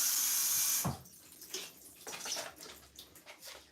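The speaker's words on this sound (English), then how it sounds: "Run it under water." Water runs from a kitchen tap over food being prepared, first as a loud steady gush, then breaking into uneven splashing and trickling as the food is moved under the stream.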